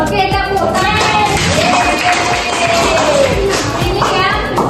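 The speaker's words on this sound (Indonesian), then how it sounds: "Oke, tepuk tangan." Group of students in a classroom clapping hands, irregular taps and thuds mixed with children's voices and room noise, close and fairly loud.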